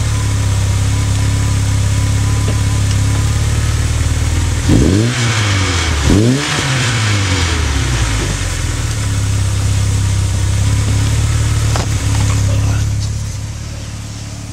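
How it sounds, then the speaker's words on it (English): A Volkswagen Golf engine with a Sebring sports exhaust idles with a deep burble, then revs sharply twice in quick succession before settling back to a steady idle. "That's a Sebring exhaust, which sounds extremely nice."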